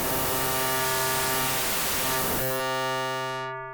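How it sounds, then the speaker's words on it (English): A Native Instruments FM8 synthesizer tone with operator feedback turned up too high gives a dense, loud hiss of white noise, then turns into a buzzy, harmonic-rich sustained tone that fades out at the end. "values that are too high result in white noise or noise."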